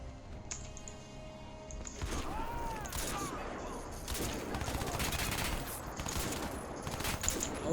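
Gunfire in the shooter game Crysis 2, with sharp repeated shots and bursts of rapid fire after a quieter opening, mid-distance and loud, mixed with clicking and faint game noise.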